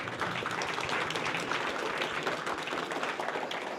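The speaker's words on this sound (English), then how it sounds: "let's have another round of applause for all of our presenters tonight" An audience at an evening tech meetup gives the presenters a round of applause, with dense, even clapping from many hands filling the room for several seconds.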